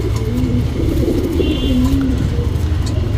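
Cheeni breed pigeon kept for breeding coos steadily in a low, continuous warble, close and loud, with a faint higher chirp midway and no talk over it.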